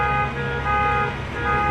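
Car alarms going off together, a steady layered tonal wail with slow swells, played back loud and continuous with no talking.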